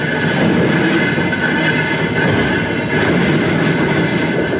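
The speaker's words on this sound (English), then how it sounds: "hear that locomotive coming up that mountain, it sounds like steam will never be dead" Western Maryland Scenic Railroad steam locomotive climbing a mountain grade, a loud steady rumble of working engine and rolling cars, continuous and close throughout with no talking.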